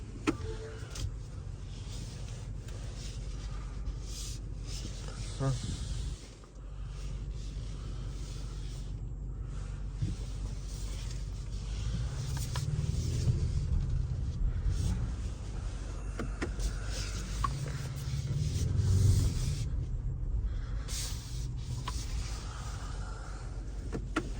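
A 2024 BMW X5 M60i engine idles quietly with a steady low rumble, swelling slightly at times, with faint clicks and cabin noises and no talking.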